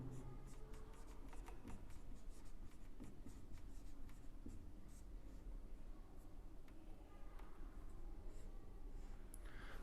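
Marker or chalk writing on a board during a chemistry lesson, a steady run of faint scratchy strokes and taps for about ten seconds, quiet and close with no talk over it.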